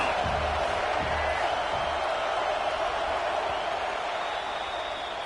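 Steady roar of a stadium crowd at a football game in a video game, broad and continuous, with scattered cheers and whoops rising from the din throughout.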